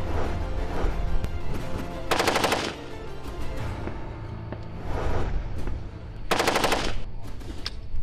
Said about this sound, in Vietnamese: Ở chế độ bắn tự động với khẩu M16,